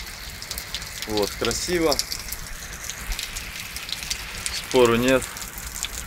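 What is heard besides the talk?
rain falling on a Krabi island beach, Thailand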